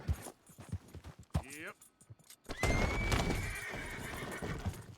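A horse in Red Dead Redemption 2 gives a loud, clear whinny that rises and trails off, followed by hoof clip-clops and movement, with a person talking before it.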